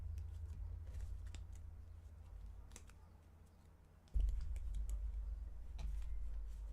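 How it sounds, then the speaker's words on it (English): A dusty oracle card deck is shuffled, giving faint, scattered soft clicks and flicks of cards over a low, quiet background hum. "just a moment to shuffle this as well."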